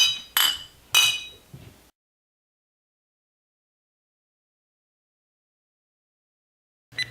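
A few quick bright clinks of beer glasses striking in a toast, close together, then silence until a brief soft knock at the end.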